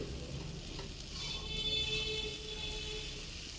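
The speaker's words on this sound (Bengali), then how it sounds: "তো চলুন মশলাটা আমি খুব ভালো করে ভেজে নিচ্ছি।" Masala spices fry in a pan for a mutton curry, making a soft, even sizzle with light stirring sounds, faint and fairly distant.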